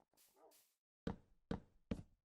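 A dog in the Minecraft video game gives three sharp barks in quick succession, close and fairly loud, after a faint, brief softer sound.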